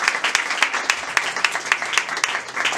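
Church congregation at a gospel evening service in Togo clapping and cheering together, a steady run of sharp rhythmic claps under a bright wash of crowd noise, fairly close and lively throughout.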